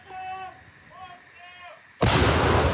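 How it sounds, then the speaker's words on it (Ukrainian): Artillery of the Ukrainian Armed Forces' 22nd Brigade fires during an assault on the flanks of Bakhmut, a single loud, close blast that comes in suddenly after faint ringing tones and lasts to the end. "Це артилерія 22-ї бригади ЗСУ."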